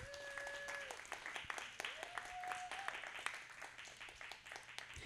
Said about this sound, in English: Everybody, please give a round of applause for B.